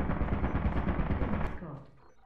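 An automated turret in the video game Lethal Company fires a rapid burst of gunfire lasting under two seconds, loud and dense, then quickly tails off.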